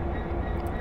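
Train Sim World Great Western Express locomotive easing to a stop, a steady low rumble of wheels and rail carriage noise, continuous and close with no voices.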